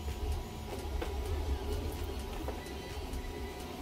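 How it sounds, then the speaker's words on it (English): Two 3D printers running together, a faint continuous mechanical whirring with soft irregular ticks and motor tones, steady throughout. "at this moment I run 2 3D printers and it's a little bit noisy."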